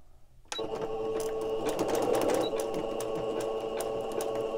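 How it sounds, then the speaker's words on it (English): Sewing machine stitching paper ephemera pieces, starting abruptly after a quiet half-second and then running steadily and close at a constant whirring rhythm for the rest of the clip, with no talk. "I will just hold it in place and then I'm going to sew."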